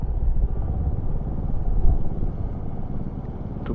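A Royal Enfield motorcycle rides through mist in the Ooty hills, its engine a steady low rumble with wind noise, continuous and close throughout.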